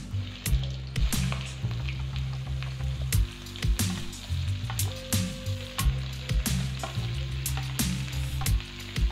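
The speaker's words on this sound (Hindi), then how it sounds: "अब इसमें सभी इस भिंडी को तेल में फ्राई करने के लिए डाल देना।" Okra dropped into hot oil with cumin and cinnamon sticks, frying with a steady broadband sizzle and periodic sharp clacks of a spatula or pan, constant and close throughout, no talk.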